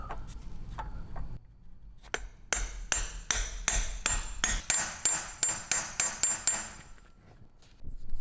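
A hammer taps a pilot bearing into a BMW X5 crankshaft during a clutch and flywheel replacement, about a dozen sharp metallic taps in quickening succession, close and loud, with no talk.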